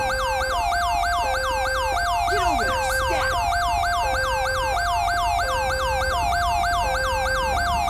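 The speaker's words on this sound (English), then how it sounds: "Ambulance arriving on scene now." An ambulance siren in the LSPDFR police mod for GTA V wails continuously and loudly with a steady repeating rise-and-fall cycle, alone with no talk over it.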